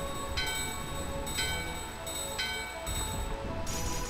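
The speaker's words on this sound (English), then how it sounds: "Let's ring the bell right here." A bell rings repeatedly in Burmecia, the rain-soaked kingdom in Final Fantasy IX, with bright metallic strikes about once a second over steady game rain and ambience.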